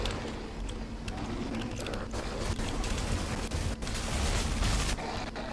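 Rapid projectile fire from the trident staff weapon in the video game Amid Evil, a dense continuous crackling barrage with mechanical clatter, loud and sustained throughout with no clear pauses.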